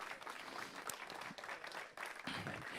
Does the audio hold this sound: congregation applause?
yes